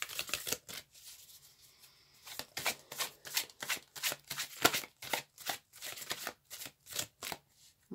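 Starchild tarot cards are shuffled by hand in a string of quick, crisp riffles and flicks, close and moderately loud, with a brief pause early on before the rhythmic shuffling resumes.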